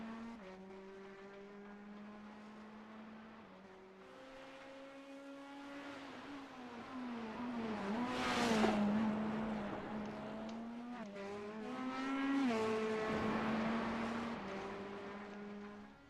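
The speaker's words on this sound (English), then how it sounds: "That is the last of the cars passing the line here in just a moment here." Race cars from the iRacing video game at Oulton cross the finish line, engines droning with shifting pitch, swelling as cars sweep past close by, a whooshing pass near the middle, then another louder pass before fading.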